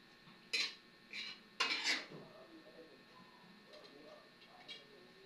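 A metal lid clanks onto a cooking pot of fish escabeche with two or three short, close rattling knocks, followed by faint clinks and a quiet voice in the background.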